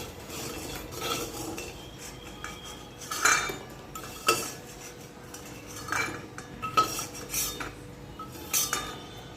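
Metal utensil clinking and scraping against a cooking pan (kadai) while fried lentil dumplings (bori) are lifted out, a series of sharp scattered clinks over a quiet kitchen background.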